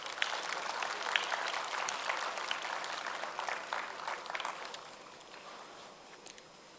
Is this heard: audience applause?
yes